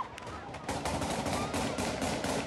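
Taliban fighters fire guns at a protest in Kabul, a rapid, sustained crackle of shots with some bursts, heard at some distance over a noisy background.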